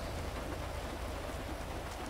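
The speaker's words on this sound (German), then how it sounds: "Der Regen kommt schon waagrecht hier." Heavy rain in the game GTA 5 gives a dense, even wash of noise that runs unbroken throughout, loud and close, with no talking over it.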